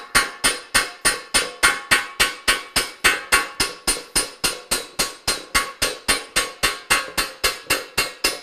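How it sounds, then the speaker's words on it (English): A hammer pounds a metal sheet in a metalwork studio with a fast, steady rhythm of sharp ringing strikes, each one pinging bright and close with a brief decay before the next blow. "And Hunter, as you continue to hammer here"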